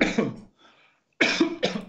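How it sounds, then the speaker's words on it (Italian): Two or three dry coughs close by, a short burst at the start and a double cough near the end, separated by a brief near-silent gap. "Non so se la tosse arriva fin là."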